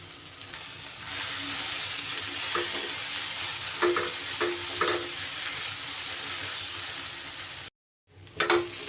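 Onion and soybean paste fry in a pan with a steady, loud sizzle and occasional stirring scrapes, cutting out briefly near the end before resuming.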